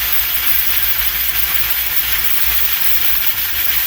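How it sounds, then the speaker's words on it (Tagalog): A pressure cooker cooking buffalo meat stew vents steam in a loud, steady, unbroken hiss that fills the whole stretch, close by, with no talking. "Ampot na singaw na po yung ating pressure cooker."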